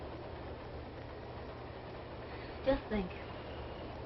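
An early-1930s passenger train rumbles steadily and quietly along, a low continuous running drone with a couple of brief knocks near the end, while a voice speaks softly over it.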